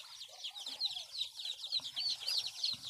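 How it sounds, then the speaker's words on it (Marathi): Desi chicks in the brooding section of a country-poultry farm give a continuous chorus of high, rapid cheeping, many birds peeping over each other at close range with faint low rustling beneath. "हे बघा पिल्ली."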